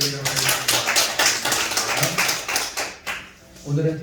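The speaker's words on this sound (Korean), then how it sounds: "우리 하나님께 영광의 박수 올려드리도록 하겠습니다." A church congregation claps together after a prayer at a Wednesday service, a quick run of rhythmic hand claps with some voices mixed in, pausing briefly before a final burst.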